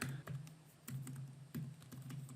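Fast bursts of clicky key presses on a computer keyboard, close and fairly quiet, in quick groups separated by brief pauses.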